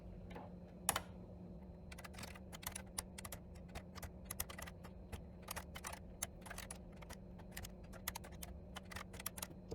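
Typing on an Olivetti M24 8086 computer keyboard, a steady stream of crisp close key clicks over a low electrical hum, irregular in rhythm with a few louder strokes.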